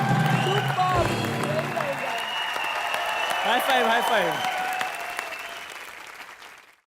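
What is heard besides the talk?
studio audience applause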